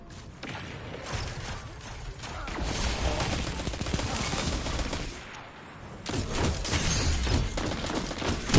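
Rapid volleys of thrown knives fired in a video game, a dense, loud barrage of sharp cracks and mechanical clatter with whooshing bursts that swells and restarts.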